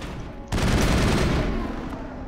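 Gunfire in the Mass Effect video game bursts in as a dense, loud rattle of rapid automatic shots after a half-second of lower noise, continuing steadily and close.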